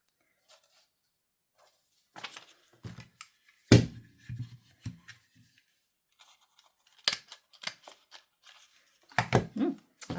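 Scissors trim craft material in a few short, quiet snips scattered across the stretch, with soft handling rustles between cuts.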